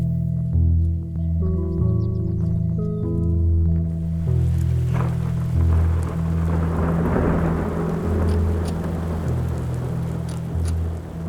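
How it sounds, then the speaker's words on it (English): Thunderstorm along a cold front beneath a shelf cloud, with low rolling thunder rumbling continuously and steady rain hiss building in partway through, all fairly loud and close with no voices. "As the cold front raced in, a shelf cloud was produced under weak thunder showers."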